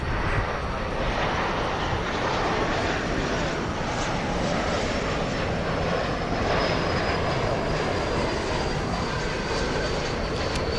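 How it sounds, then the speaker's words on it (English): An Air Canada airliner comes in to land at DFW airport at night: a loud, steady jet roar that holds evenly throughout, with a faint high whine above it. "Pause for a second to see Air Canada come in."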